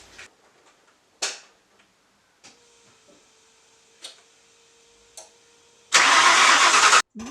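A Ford Crown Victoria 4.6 V8 fitted in a 1988 Mazda RX7 FC convertible gives a burst of starter cranking after several scattered ticks and clicks in a quiet garage, loud and close for about a second before cutting off.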